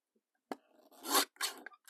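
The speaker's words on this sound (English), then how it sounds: "we'll come in here with my dinky little trimmer" A small paper trimmer slices through card in a couple of short, close rasping strokes with a quiet click at the start and brief pauses between.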